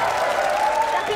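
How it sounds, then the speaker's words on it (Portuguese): A live studio audience on a comedy show bursts into applause, loud, dense clapping with a crowd murmur running throughout the short burst. "a salva de palmas"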